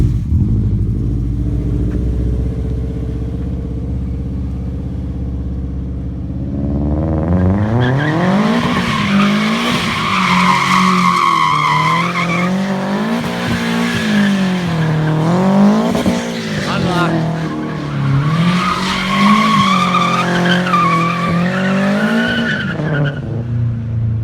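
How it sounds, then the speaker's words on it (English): A big-turbo Subaru swapped to rear-wheel drive drifts with a loud engine roar, long screeching tire skids, and wavering revs rising and falling, heard close and continuous for over fifteen seconds after a quieter idle at the start. "The external wastegate just sounds amazing."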